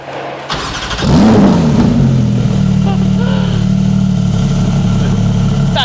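An RML Group P39 car engine cranks and catches at close range, flares in a brief rev, then settles into a loud, steady, throbbing run that carries on to the end.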